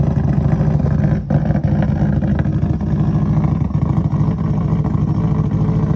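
A modified Subaru engine runs after an ECU replacement, giving a loud, continuous, close-up throbbing idle with a rough, pulsing exhaust rumble that holds steady throughout, with no voices.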